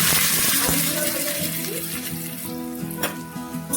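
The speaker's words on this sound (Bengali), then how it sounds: "এবার আলুগুলো দিয়ে দিচ্ছি।" Potatoes go into hot oil already used for frying pumpkin, for a Bengali vegetarian aloo posto dish, giving a steady close sizzle that fades slightly over a few seconds, with a musical hum underneath.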